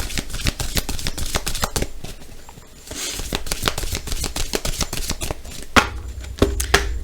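Tarot cards being shuffled by hand: a quick run of crisp, irregular flicks and riffles, close and fairly loud, with a brief lull partway through before the shuffling resumes.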